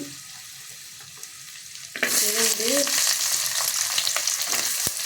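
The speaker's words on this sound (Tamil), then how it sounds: "பூண்டு போட்டு நல்லா வறுத்துங்க." Ginger, garlic, black pepper and fenugreek frying in hot oil for a banana flower fish curry, a sudden loud sizzle after a quiet start, then steady crackling with stirring scrapes.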